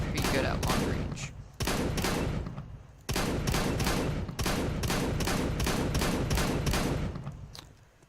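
XM shotgun fire in Counter-Strike: Global Offensive, a run of loud, close blasts at a steady pace, roughly a dozen shots broken by a couple of brief pauses.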